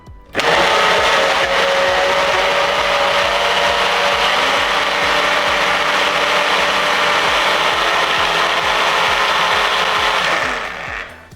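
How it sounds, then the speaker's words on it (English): Hamilton Beach and Ninja blenders chop strawberries together, a loud continuous motor roar with rapid grinding clatter at close range that starts abruptly and cuts off near the end. "Now we're gonna do a final of 30 more seconds for a total of a minute and see which one is more blended than the other."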